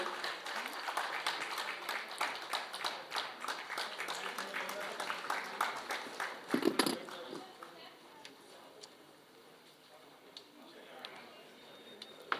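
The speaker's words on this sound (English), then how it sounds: "Can we just give them a big round of applause?" An audience at a trailer launch event in Delhi claps and applauds loudly in a dense patter that swells, then fades into quieter room noise with scattered claps.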